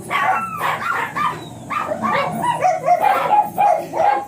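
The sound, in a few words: mini pinscher dog barking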